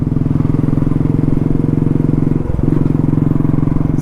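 Motorcycle climbing the hairpin bends of Thimbam Ghat, its engine thrumming loud and close in a steady pulsing drone with a brief dip midway.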